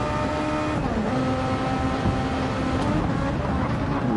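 Onboard a Super Formula race car at High Speed Ring through turn 2, a loud, steady engine drone with shifting pitch dominates, and a commentator talks over it.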